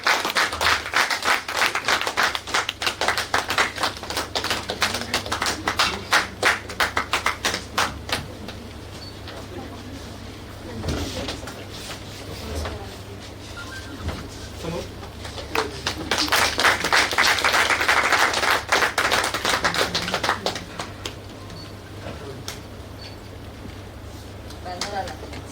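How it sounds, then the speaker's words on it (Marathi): Audience applause at a media conference and journalists' gathering in Pune, bursts of clapping that rise, thin out and swell again over a long stretch, with voices talking in the room. "एकदा जोरदार टाळ्या"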